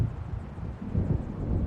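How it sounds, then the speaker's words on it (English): A video game storm approaches with a low, soft rumble of thunder that rolls on continuously and swells slightly toward the end. "It seems there's a storm coming."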